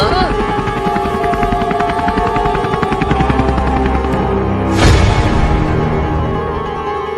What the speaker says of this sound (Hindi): अरे वो पुलिस के पास हेलीकॉप्टर है, वही लाएंगे।